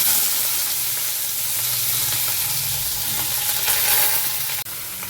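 Chopped onion sizzling loudly in hot oil with cumin and dried chili for a Bengali moong dal tadka, a steady close frying hiss with faint stirring scrapes and a brief break near the end.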